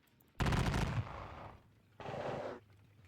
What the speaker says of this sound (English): This battalion will open fire on the Lieb Grenadiers as well.